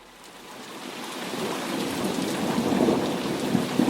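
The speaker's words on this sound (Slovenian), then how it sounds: "sem ravno zataknjen v dežno-vetrovnem viharju" A thunderstorm with heavy rain and wind, a dense, loud roar of downpour swelling steadily with deep rumbling thunder building underneath, continuous and without voices.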